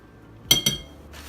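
Two quick glassy clinks as a glass bowl holding a dried herb mixture is set down and handled, close and bright, followed by faint rustling; no talking.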